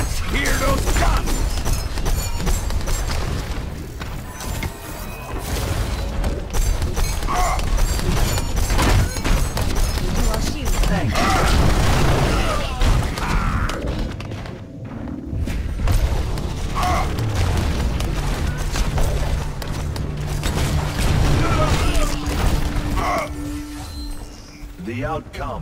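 Gunfire and weapon mechanisms from heroes in the video game Overwatch on the Hanamura map, a dense stream of booming shots, clicks and thuds for about twenty-five seconds, with voices talking over it.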